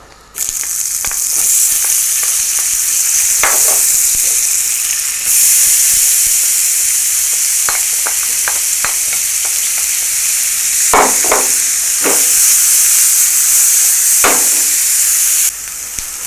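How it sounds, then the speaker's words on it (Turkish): Onions and spinach sauté in a pan for a spinach börek filling, giving a loud, steady hiss of frying that dips briefly, with scattered scrapes and knocks of stirring. "Soğan iyice kavruldu."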